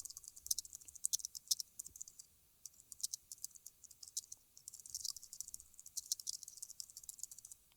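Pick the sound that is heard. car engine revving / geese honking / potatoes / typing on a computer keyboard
typing on a computer keyboard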